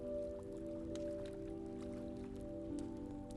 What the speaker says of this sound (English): The first drops of rain began to fall, cold and sharp against their skin.